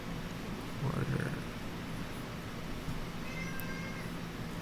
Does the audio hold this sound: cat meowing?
yes